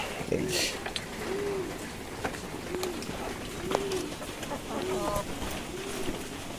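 Soft, repeated coos of fancy pigeons in a loft during rainy, cold weather, at a relaxed pace over a background hiss, with faint voices and a few other bird calls nearby.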